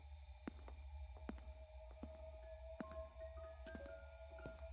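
A loud, steady heartbeat pulses under a low droning hum in the Crimson Snow Christmas indie horror game, thumping in regular rhythm while the player hides from a jealous ex-girlfriend.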